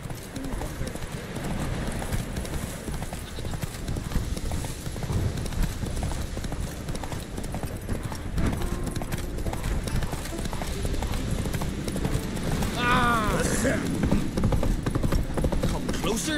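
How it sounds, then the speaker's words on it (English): A horse gallops in The Witcher 3, its rapid rhythmic hoofbeats drumming steadily under game music and ambience, with a short whinny near the end and some speech mixed in. "Run, Roach"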